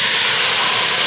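Loud, steady hissing sizzle, like food frying hard in a hot pan, close and continuous without a break.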